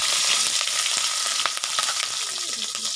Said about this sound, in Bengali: এখন নেড়ে চেড়ে একটু ভাজা ভাজা করে নেবো